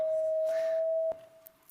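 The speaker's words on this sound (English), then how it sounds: "This is the sound of purple." A steady, pure electronic tone holds at one pitch, loud and unbroken for over a second, then drops quieter with a faint click near the end.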